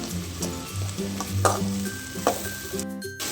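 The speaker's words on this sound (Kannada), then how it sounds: "ಈಗ ನೆನೆಸಿಟ್ಕೊಂಡಿರುವ ಹೆಸರು ಬೇಳೆಯನ್ನು ಹಾಕಿ ಚೆನ್ನಾಗಿ ಮಿಕ್ಸ್ ಮಾಡ್ಕೊಳ್ಬೇಕು." Soaked moong dal stirred into fried onions in a pan for a dill leaves palya, a steady sizzle with repeated scraping strokes of a spoon, close and clear with no talking.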